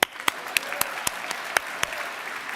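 A small group at a nursing school pinning ceremony claps briefly, with several distinct sharp hand claps standing out over a softer patter, close by and fairly loud.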